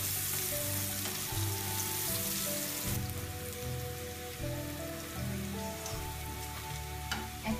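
Onions frying in a pan with salt, cardamom, cinnamon and bay leaf for a Bangladeshi whole chicken shahi roast, giving a steady close sizzle and crackle throughout with soft stirring scrapes and no talking.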